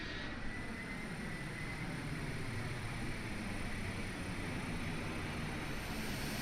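Learjet 35 jet engines spinning up in a flight simulator, a steady broad whooshing roar with a faint high whine, constant and moderately quiet throughout with no talking.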